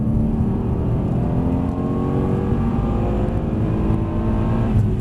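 A Mercedes-Benz car accelerating on a driving track, its engine drone steady and loud with rising whine tones as it pulls through the gears, heard continuously from inside the car with no voices.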